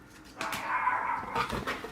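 A dog gives a short whining bark followed by a second brief yelp, both faint and somewhat distant indoors, with no speech.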